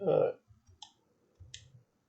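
A computer mouse clicking while working in DesignSpark Mechanical CAD software, two sharp isolated clicks close to the mic, with brief speech murmurs around them.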